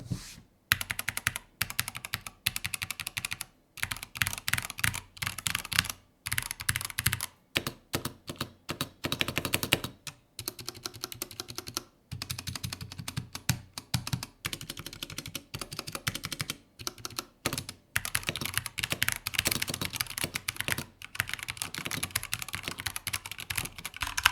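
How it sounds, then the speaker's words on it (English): Continuous typing on a Corsair K70 Pro Mini Wireless mechanical keyboard, rapid close clicks and clacks in bursts with brief pauses, heard alone with no talking. "All right, time for a type test."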